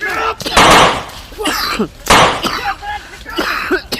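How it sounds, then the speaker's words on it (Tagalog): Two harsh, loud coughs from one person close by, each followed by brief talking. "Yung ubo ko, umandar din!"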